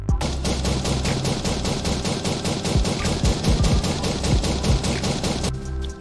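Rapid automatic gunfire in a battle royale video game, a steady fast stream of loud shots lasting about five and a half seconds before cutting off, alone without talk.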